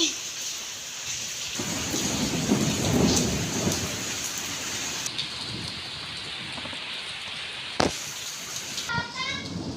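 Steady evening rain pours down with a deep rumble of thunder rolling underneath, and a brief voice and a few chirps near the end.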